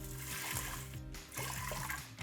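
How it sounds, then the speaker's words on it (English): Water pours from a cup into an Instant Pot over dry green lentils, a close, steady trickling splash that runs for about two seconds under a faint musical background. "then I'm adding 2 cups of water"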